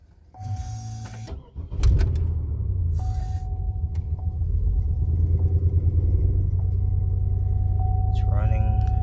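A 2005 Pontiac Grand Prix with a misfire cranks and starts, its engine settling into a steady, close, slightly shaky idle rumble, with a chime tone and brief shuffling noises nearby.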